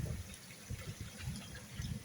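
Water runs and splashes steadily into a garden fish pond during a water change, a continuous gurgling wash with no talk.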